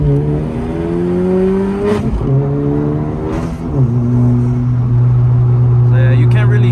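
Air rushing into the intake of a 10th gen Honda Civic Si as it accelerates on canyon roads, with a steady loud engine drone climbing through gear pulls and a voice talking over it.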